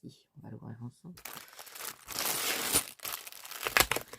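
Plastic packaging of a gnome craft kit is torn open in loud bursts of crinkling and tearing, close to the microphone, after a brief stretch of talking.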